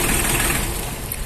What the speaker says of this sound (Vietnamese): máy nổ vậy là ok quá rồi